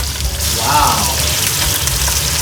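A pan with tomato is deglazed with Japanese whisky, a loud hissing sizzle that bursts up and settles into steady frying noise, close by.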